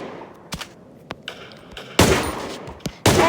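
Auto rifle gunfire in the Melon Playground video game: loud, sharp bursts and single shots scattered irregularly, with two sustained heavy bursts near the end.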